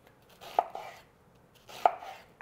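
An onion is chopped with a knife on a board: two separate bursts of quick, crisp cuts with soft thuds, close and clear, with no voices.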